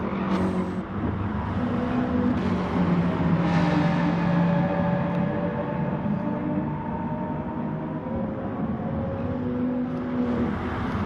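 Race car engine at full throttle in Gran Turismo Sport, racing at Laguna Seca, a loud sustained roar with rising and shifting tones as it chases another car, no voices over it.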